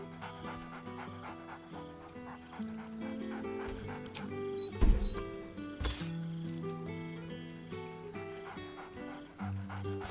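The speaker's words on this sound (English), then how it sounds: "Scratch barks merrily in something like agreement." Scratch the dog panting and giving an excited bark in Baldur's Gate 3, set against a dense layer of game music with a few clinking sounds.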